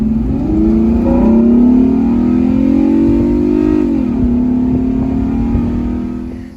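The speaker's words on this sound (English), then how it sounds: "I'm going to put a clip here of the VTEC noises of these cars" A Honda Accord's 3-liter J-series V6 with VTEC revs loudly, its note rising into a strained howl, easing briefly, then holding a high, steady scream before fading.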